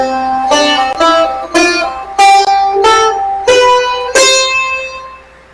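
A major scale played note by note on a plucked or struck instrument, seven clear tones stepping upward at an even pace, each ringing out before the next.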